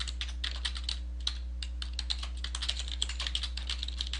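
Fingers tap steadily on a computer keyboard while a short form name is entered, a close run of light, quick clicks over a low steady electrical hum.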